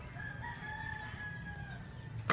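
A single rooster crows in the distance, a long drawn-out call over quiet outdoor background noise, ending with a brief louder sound.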